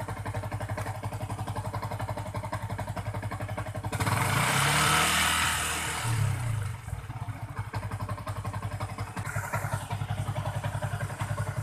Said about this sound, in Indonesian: ini motornya sudah saya panaskan ya